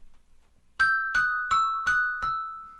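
An English handbell struck with a mallet rings out five times in a steady sequence, each bright, clear strike sustaining and overlapping the next, close and loud with no talking.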